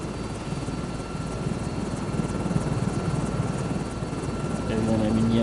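A helicopter in the Microsoft Flight Simulator 2024 video game runs with a steady, loud rotor drone and engine buzz that swells a little toward the end.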